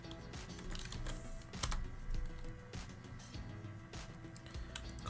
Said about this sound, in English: I'll type that keyword in there.